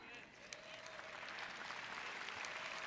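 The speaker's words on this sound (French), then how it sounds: "Vous voyez quand vous applaudissez ces applaudissements mous." Soft, thin applause from a seated assembly audience, a continuous patter of scattered clapping heard faintly at some distance.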